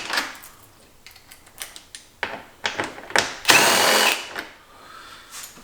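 A power tool undoing two 10mm bolts on a Jeep Wrangler JK air box near the radiator: short whirring bursts and clicks building to a loud sustained spin-out, close to the microphone.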